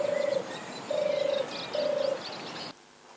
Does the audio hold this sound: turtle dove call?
yes